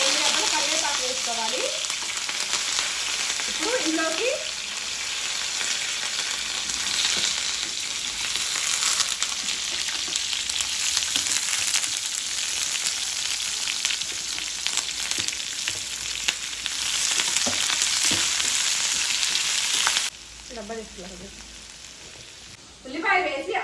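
Mustard seeds, cumin and a torn dried red chili sizzle and splutter in hot oil for a masala dosa filling, a steady dense crackle running the whole time with a brief dip near the end and a voice talking faintly at moments.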